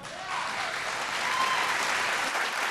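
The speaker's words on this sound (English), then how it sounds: "please, a round of applause for each of them" Audience applause at a singing competition show, a dense sustained wash of clapping from a large crowd that swells after a moment and holds steady, fairly loud and even throughout.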